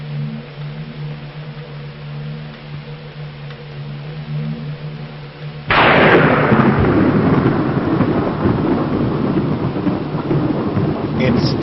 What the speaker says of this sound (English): It's still a dark and stormy night.